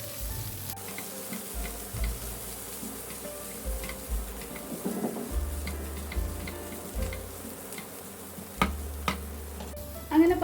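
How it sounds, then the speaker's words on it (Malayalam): Green chilies and ginger-garlic paste sautéing in a pan, a soft steady sizzle with occasional ticks and scrapes of stirring, while someone talks over it and a low hum drifts in and out. "ഇത് നന്നായിട്ട് നമുക്കൊന്ന് പച്ചമുളകിൻ്റെയും ഇഞ്ചി വെളുത്തുള്ളി പേസ്റ്റിൻ്റെയും ഒക്കെ പച്ചമണം മാറുന്നത് വരെ ഒന്ന് വാട്ടിയെടുക്കാം"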